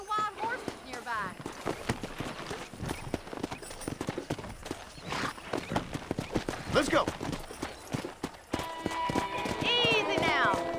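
Horse hooves clip-clopping and running in the Red Dead Redemption video game near a ranch with wild horses, rhythmic hoofbeats under a brief spoken line, with a whinny and game music swelling toward the end.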